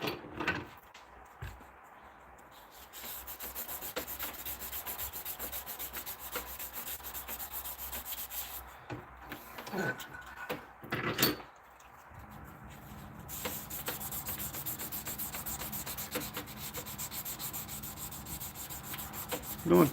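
Steady rasping of sandpaper rubbed back and forth across a white wooden piece in a workshop, long continuous strokes with brief pauses, close and moderately loud.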